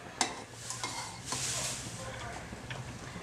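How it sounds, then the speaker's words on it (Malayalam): Half a litre of milk heating in a pot for mango ice cream, with a spoon scraping and stirring in soft bursts over a low steady hum, a few light clinks of metal against the pan. "ആദ്യം നമുക്ക് ഈ പാലൊന്ന് തിളപ്പിച്ചെടുക്കാം."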